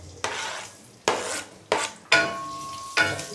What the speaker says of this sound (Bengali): এর মধ্যে আমি দিয়ে দিব এখন পেঁয়াজ কাটাগুলো।